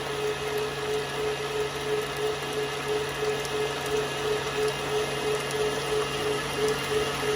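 Electric mixer beating a bread batter made with butter and grated cheese, a steady continuous motor whir with a constant tonal hum, close and alone without talk.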